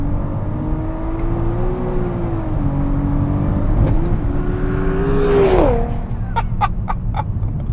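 A 500 HP Audi TT with a VR6 engine pulls hard under steady acceleration, its loud rising drone climbing and holding before the revs sweep up sharply near the end, followed by a few brief clicks.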